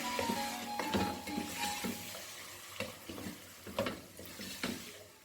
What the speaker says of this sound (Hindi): और इसके बाद इसमें ये एक बड़ी गाजर जाएगी और इसको मैंने रफली चॉप कर दिया है। मटर है तकरीबन हाफ कप और अब मैं इसे ज़रा भून लूँगी।